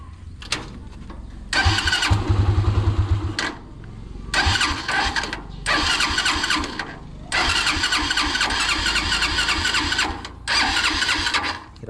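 A tricycle engine struggling to start: repeated bursts of cranking and sputtering separated by brief pauses, the motor catching in rough uneven runs before cutting out again, close and fairly loud.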